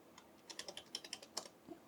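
Quiet, rapid clicking of keys on a USB computer keyboard as a short name is typed during a Windows Whistler build 2267 setup, a brief burst of keystrokes heard close with no talking.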